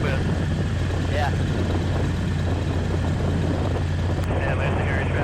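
Continuous loud rotor and engine drone of a helicopter in flight, steady throughout with no pauses.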